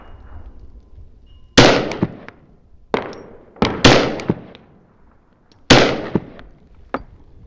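A Glock 42 pistol fires at a shooting range, with about six loud, sharp reports at uneven intervals, some close together, each followed by a short echoing decay over faint background noise.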